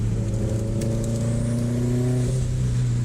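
Engine of a Subaru STI with a big turbo making 600 whp on E80 ethanol, heard from inside the car as a loud, steady drone that shifts pitch as it drops to a lower gear partway through.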